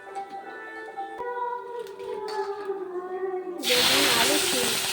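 Black cumin (kalonji) seeds hit hot oil in a home kitchen pan and burst into a loud, steady sizzle midway through, following a quieter stretch of low cooking noise.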